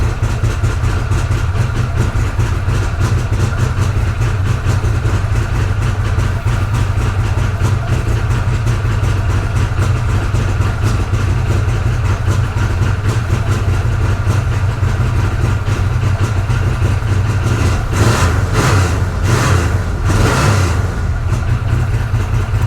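Mom's car idling just after a cold start, a loud, steady engine rumble close by that holds even throughout, with a brief rise in revs near the end.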